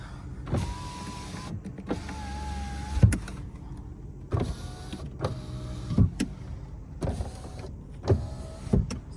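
Power windows in a Volkswagen Golf 1.6 MPI run several times in a row: each whirring motor stroke rises and then stops with a soft clunk, heard up close in a quiet cabin with no talk.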